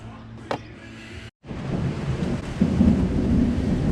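A thunderstorm with rain rolls in during brake work on a 2009 Jeep Grand Cherokee: a steady wash of rainfall with low rumbling thunder that swells louder in the second half, after a sharp crack and a brief dropout.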